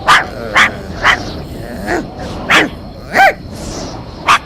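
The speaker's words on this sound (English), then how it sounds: "started to bark" A dog barks in short, sharp bursts, about eight times at a steady pace, fairly close, with no other sound between the barks.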